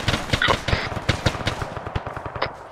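Rapid bursts of rifle and machine-gun fire from the ArmA 3 military shooter crack out in quick irregular volleys, loud and close, with a few louder shots standing out and faint voices underneath.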